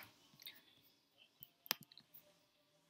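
A few quiet, sharp computer mouse clicks land while navigating a website, with a small cluster near the middle and otherwise near silence.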